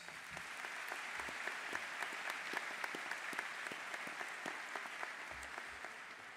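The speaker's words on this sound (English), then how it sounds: "Let's give them a round of applause." Steady applause from a large audience at a high school graduation ceremony, even and sustained throughout, fairly distant with scattered individual claps standing out.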